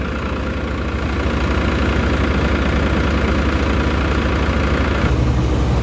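A multicrop thresher runs in a farm field, driven by a Farmtrac 60 tractor, giving a loud, steady engine drone with dense mechanical rumble throughout.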